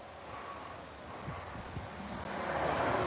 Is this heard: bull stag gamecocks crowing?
no